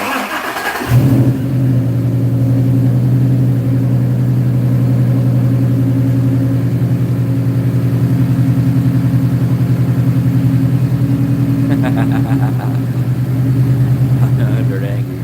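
A turbocharged car engine, fitted with a new throttle body, holds a high, steady idle and refuses to drop, droning loud and close for most of the clip after a brief start, with a faint rattle near the end.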